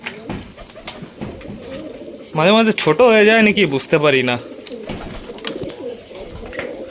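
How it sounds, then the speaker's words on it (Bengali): A pigeon coos loudly and close by in a brief run of rolling, warbling calls, with people talking over and around it in a home where pet birds, including budgerigars, are kept. "এই যে এই পায়রাটা আওয়াজ করছে, কালকে থেকে আওয়াজ করছে বন্ধুরা।"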